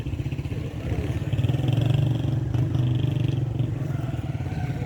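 Motorcycle engine idling and revving at a traffic checkpoint in Quetta, where owners were stopped for number plate checks; a steady, loud low rumble with some clatter continues throughout, without speech.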